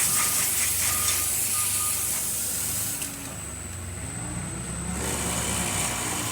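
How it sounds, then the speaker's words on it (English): A Lelit espresso machine gives off a steady, loud hiss of steam, with a mechanical hum underneath that drops and shifts partway through. "nice steady steam coming out of the machine, excellent pressure, working really great"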